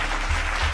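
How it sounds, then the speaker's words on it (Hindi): Audience applause at a village gathering on Panchayati Raj, a steady dense wash of clapping filling the short moment with no voices over it. "हाँ तो ताली बजा दीजिए।"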